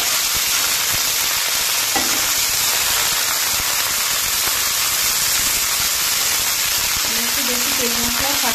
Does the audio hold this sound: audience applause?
no